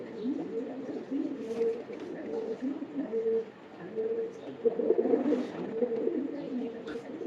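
Pigeon cooing in a line-breeding loft, soft repeated low coos running steadily throughout, with someone talking over them.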